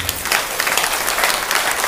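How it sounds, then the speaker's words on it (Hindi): An audience claps loudly and steadily at a spiritual gathering, dense continuous applause filling the room with no voices over it. "अपने आप को जोरदार से ताली बजाओ"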